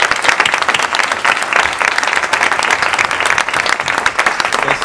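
Dense audience applause fills the whole stretch, many hands clapping steadily and loudly in a hall at a French-language support-committee gathering, with no speech over it.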